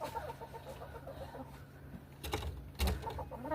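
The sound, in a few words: chickens clucking in their run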